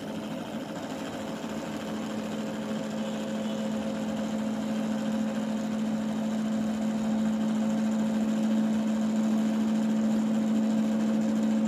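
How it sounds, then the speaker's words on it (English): A homemade brushless DC motor driven by a MOSFET controller whirs steadily with a strong, constant electrical hum, close and moderately quiet, running alone without speech. "now I am going to start the motor. The motor is going to run."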